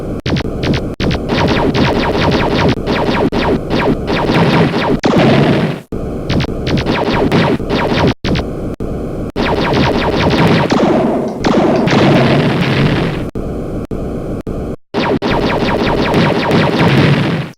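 Torpedoes fire and explode in a space combat video game. The booms and thuds are loud and sustained, with a deep throbbing hum and a few abrupt cutoffs.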